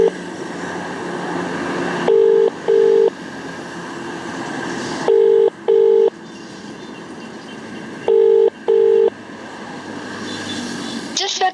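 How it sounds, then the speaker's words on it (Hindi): An unanswered phone call carries a repeating ringback tone, paired double beeps returning about every three seconds, over steady hiss and noisy background. "देखिए फोन बज रहा है।"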